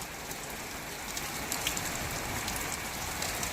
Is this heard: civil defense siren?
no